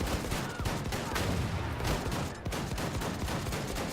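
Rapid, dense gunfire from the video game Wolfenstein 2, with sharp shots fired in quick succession throughout and a brief lull midway, loud and close with no talking over it.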